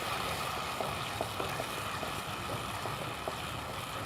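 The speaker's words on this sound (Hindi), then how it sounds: "अब इसके अंदर मैं ये टमाटर डालूँगी। ये टमाटर ये अच्छी तरह मिक्स कर दूँगी।" Tomatoes hit hot oil in a pan and sizzle with a steady, close, crackling hiss that carries on throughout, with a few small clinks and pops over it.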